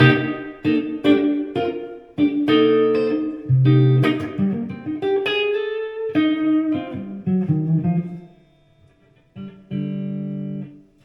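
Electric guitar chords and single notes played through a Blackstar HT Club 50 amp on its 5-watt setting with reverb at three quarters, notes ringing and trailing off between strums, no voices.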